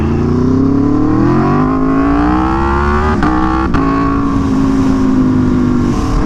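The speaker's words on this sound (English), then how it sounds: "Put a little bit of heat in this rear tire." An Aprilia Tuono motorcycle engine revs up steadily and loud, close by, to warm a newly fitted rear tire, its pitch climbing smoothly with a couple of short dips as the throttle is briefly blipped.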